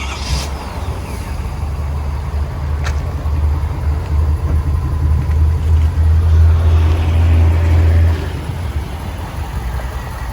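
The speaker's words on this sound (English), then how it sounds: "really nice sound on that exhaust" A 2021 Shelby F-250 Super Baja pickup runs through its dual exhaust, a deep rumbling idle that swells into a stronger, louder drone midway before settling back, heard close up with no talking.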